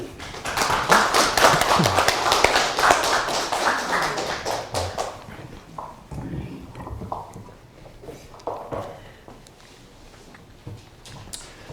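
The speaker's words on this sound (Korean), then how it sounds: "이준석 대하사랑 교육위원을 크게 박수로 맞이해 주시기 바랍니다" An audience at a history lecture welcomes a guest speaker with loud, close clapping that swells for several seconds, then thins into scattered claps, taps and small room noises.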